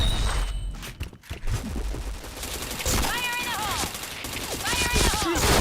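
Gunfire in the shooting game Point Blank: rapid automatic bursts and single shots crack loudly in quick succession, mixed with game effect tones and footsteps.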